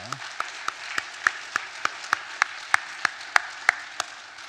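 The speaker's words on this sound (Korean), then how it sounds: "한 번 더 수고 많이 해주십사 하고 격려의 박수 보내주시기 바랍니다" A church congregation claps in encouragement at a Sunday praise service, sharp isolated claps landing at a steady, fairly even pace, clear and moderately loud against a quiet room.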